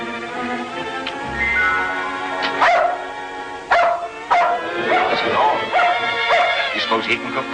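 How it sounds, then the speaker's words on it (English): A dog barks in a string of sharp yips and whimpers from close by, mixed in with people talking in an old 1940s serial. "Barking at thunder."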